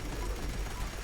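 Rapid gunfire in the post-apocalyptic shooter Fallout 76, a dense, continuous burst of shots with a low booming body, loud and steady throughout.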